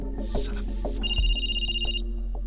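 Telephone ringing indoors with a bright electronic trill in a drama scene, one sustained burst of ring lasting about a second over low background sounds and faint movement.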